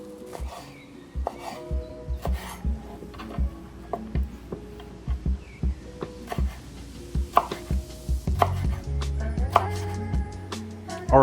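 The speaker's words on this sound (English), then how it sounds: "I'm gonna chop it." A knife chops a bell pepper on a cutting board in a steady series of sharp, close knocks, some quick runs and short pauses between, with light clatter of dishes nearby and no talking.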